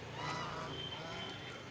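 Ducks calling at close range at a scenic spot in Himachal, a steady run of honking, goose-like calls filling the short stretch over a low outdoor background.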